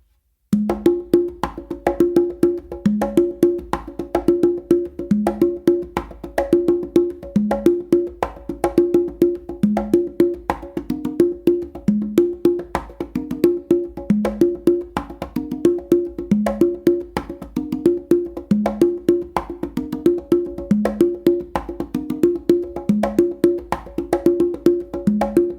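A funky melodic pattern is played on congas, with steady repeating hand strikes in a tight groove that run continuously at an even, moderately loud level, with no voices.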